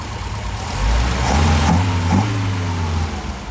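A restored Mercedes 190SL engine, freshly fitted with new carburettors, revs up and settles into a steady mid-pitched idle, loud and close, rising in two brief blips before holding.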